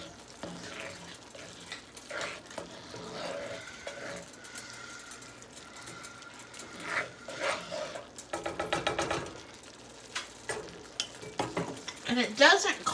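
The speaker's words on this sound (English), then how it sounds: "you're going to stir that real good" A sauce mixture with A1 sauce being stirred in a pan: soft scraping and sizzle, turning into brisk rhythmic stirring strokes near the end, with a final clatter.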